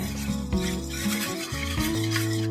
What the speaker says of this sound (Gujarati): ચણાના લોટમાં છાશ થોડું અમથા પ્રમાણમાં બે થી ત્રણ ચમચી છાસ એડ કરી અને લોટ એકદમ સરસ મિક્સ કરી લેવાનો